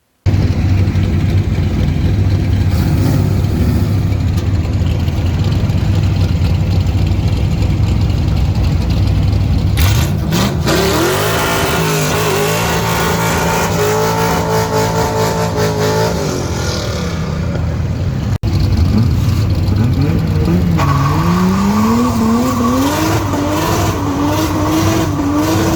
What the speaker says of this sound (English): we get to do some burnouts out there